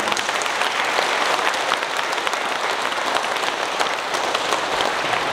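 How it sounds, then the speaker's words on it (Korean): Sustained, dense applause from a large audience at a 42nd-anniversary blessing ceremony assembly, steady and loud throughout with no voices over it. "어머님께 우리 큰 청가장에 박수 한번 했으면 좋겠습니다"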